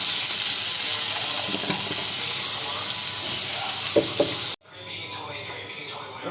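Ground cumin hits a hot pan and sets off a loud, steady sizzle with a few small crackles. The frying cuts off abruptly after about four seconds, leaving a quiet kitchen with faint clinks.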